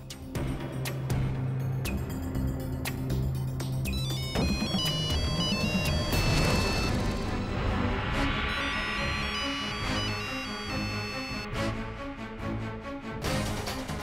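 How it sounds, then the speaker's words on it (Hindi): A mobile phone ringtone plays continuously, a loud, busy electronic melody that loops for the whole stretch with no voices. "फोन क्यों नहीं उठा रही?"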